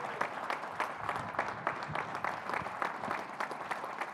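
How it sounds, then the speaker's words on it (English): Audience applause for two football coaches at a signing day show, steady mid-level clapping from a crowd with scattered sharper individual claps throughout, no talking over it. "Coach Fuller and Coach Woodson, give them a round of applause, please."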